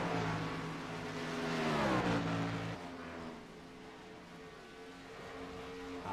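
A race truck in a short-track event at Dover, heard as a loud engine note that climbs in pitch and then drops away while the truck spins out on the track, with steady engine roar continuing afterward.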